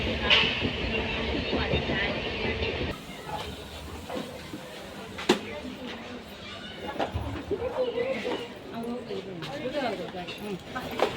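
A passenger train moving along the rails, a steady broadband rumble with occasional knocks and clanks, heard from inside with people chatting over it throughout.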